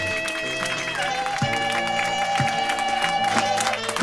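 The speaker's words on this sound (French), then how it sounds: "Donnons une acclamation au Seigneur." Congregation at a church testimony service breaking into steady applause and cheering, a dense wash of claps with voices mixed in and a few louder hits standing out, continuing throughout.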